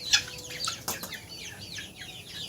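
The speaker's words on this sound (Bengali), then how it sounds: "এই যে দেশি মুরগিগুলো, তো বেশিরভাগ মোরগ হয়েছে।" Desi chickens and roosters on a farm cluck and squawk close by in quick, overlapping calls, with a brief flutter of wings amid the short burst.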